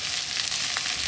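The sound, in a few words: food frying in a pan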